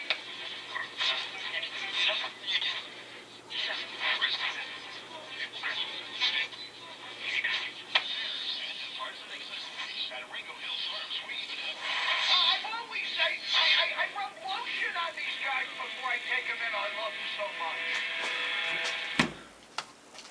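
A Zenith 9S262 radio plays from its speaker after a dial and motor drive belt replacement, with broadcast speech and tuning noises coming through at moderate loudness, a low hum early on and a sharp click near the end.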